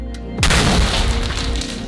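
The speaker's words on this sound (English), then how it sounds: "The bag just burst." A sudden loud burst as an overfilled bag of popcorn tears open during a popping explosion in a giant bucket, a heavy boom followed by a rough crackling rush that fades slowly, with no voices.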